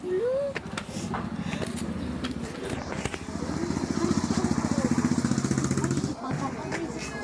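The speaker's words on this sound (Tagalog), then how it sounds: "Ayun yung motor." A motorcycle engine idles and revs close by, its pulsing rumble rising in the middle and falling away near the end, with people chatting over it at a Christmas gathering.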